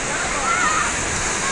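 Coban Pelangi waterfall in Malang roars as a steady, loud broadband rush of falling water, continuous and close, with no break across the moment.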